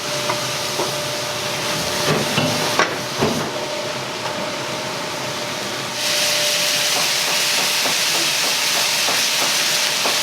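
Seasoned rice stir-fried in a Fukuoka udon shop's kitchen makes a loud, dense, continuous hiss with scattered clatter, growing fuller and steadier partway through.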